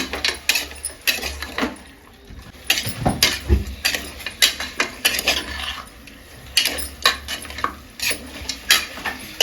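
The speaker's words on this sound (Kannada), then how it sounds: "ಒಂದು ಅರ್ಧ ಕೆ ಜಿ ಮಟನ್ನ ಚೆನ್ನಾಗಿ ತೊಳ್ಕೊಂಡು ಹಾಕ್ತಾ ಇದ್ದೀನಿ ಆಯಿತಾ ಇದನ್ನು ಚೆನ್ನಾಗಿ ಮಿಕ್ಸ್ ಮಾಡ್ಕೊಳ್ಳೋಣ" Half a kilo of washed mutton is mixed in hot oil in a pot, giving close, loud rhythmic scraping and clanking of the spoon against the pot over a faint sizzle, with no talking.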